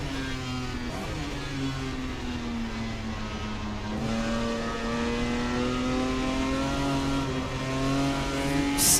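A Jaguar E-Type race car engine in Assetto Corsa, set in a simulated 1967 Le Mans race, drones steadily with smooth rising and falling pitch as it slows and accelerates, loud and continuous with no voices.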